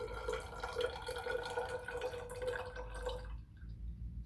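A liquid sample pours steadily in a thin trickling stream into a small beaker during a titration, close and fairly quiet, then stops abruptly near the end.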